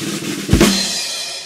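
A drum kit strike: a single sharp hit with a boomy low thump and a bright cymbal-like wash decaying quickly, heard alone at moderate volume.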